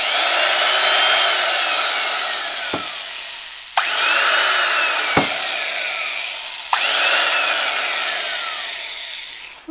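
An old East German electric screwdriver switched on and running, giving a steady loud motor whine with a falling pitch. It runs in three bursts of about three seconds each, with no talking.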